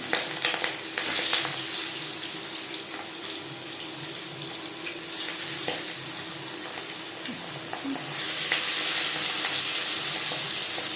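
Marinated pangas fish goes into hot refined oil in a pan, producing a steady close sizzling hiss that swells in louder bursts as the pieces settle. No one speaks.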